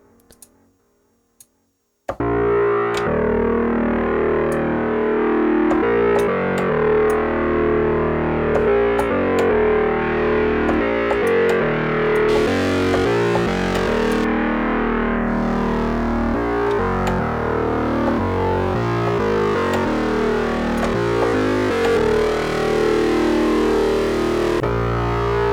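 Heavy distorted bass synth patch built in Arturia Pigments with ping pong delay, starting after a brief quiet moment and then playing loud and continuous with gritty, buzzing sustained notes and rhythmic shifts.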